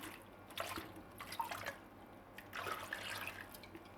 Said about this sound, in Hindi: आधा पानी डाल देंगे